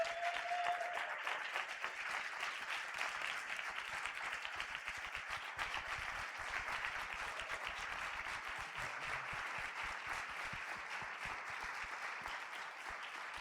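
Sustained audience applause fills a talk hall on degrowth and digitalization, a steady dense wash of many hands clapping that holds at an even level for well over ten seconds with no voices over it.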